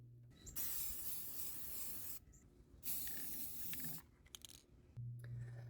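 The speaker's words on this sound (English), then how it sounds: "I'm going to spray paint these two." Long bursts of hissing aerosol spray paint, close and steady, broken by short pauses and faint rattles between sprays.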